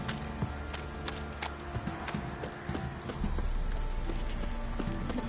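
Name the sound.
horse hooves in video game The Witcher 3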